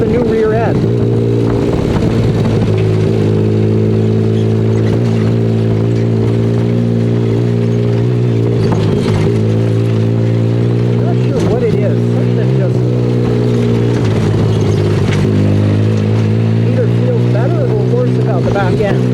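Car engine droning steadily while driving on its first run after fitting a new transmission and rear end, a loud continuous low hum with occasional bumps and clunks, and a person talking intermittently over it.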